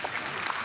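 Audience applause on a Hindi TV comedy talk show set, a brief steady wash of clapping filling the whole moment.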